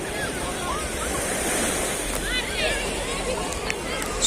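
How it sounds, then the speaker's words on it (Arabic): Calm waves wash steadily on Gleem public beach in Alexandria, a continuous soft surf hiss with light wind noise and faint distant crowd babble from the shore. "ده كده حالة البحر، موج هادي وحلو"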